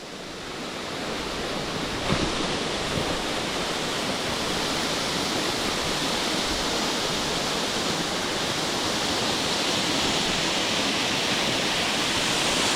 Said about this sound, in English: I'm getting to spray the water now off the waterfall.